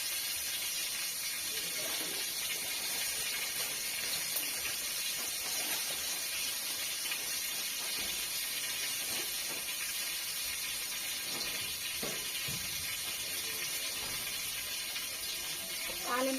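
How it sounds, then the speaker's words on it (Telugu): Mustard seeds and curry leaves sizzle in hot oil while a tempering for tomato and green chilli chutney is prepared, a soft continuous hiss and crackle with faint pops, steady and fairly quiet. "తాలింపు అయితే వేసేసుకుంటున్నాను ఫ్రెండ్స్."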